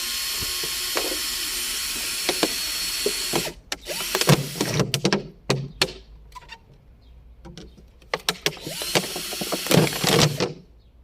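A drill bores five or six holes into a tomato plant stem or container, a steady high whine at first, then short choppy bursts of drilling and clatter at close range.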